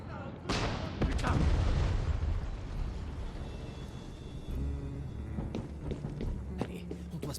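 Gunfire and heavy explosions from the Far Cry 6 video game, a loud blast then rumbling booms and scattered shots, with someone talking over the action.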